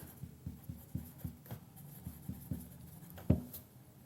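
Pen or marker writing on a board during a class, a quiet series of short regular scratchy strokes with one louder tap near the end, no talking over it.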